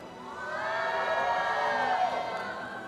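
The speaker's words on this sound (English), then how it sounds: "ladies and gentlemen, and the crowds in the arena, can we hear some voices for the KPL Dream Team?" An arena crowd at an Honor of Kings esports group-stage match swells into a brief cheer of mixed shouts and whoops, moderately distant and rising then easing over a few seconds.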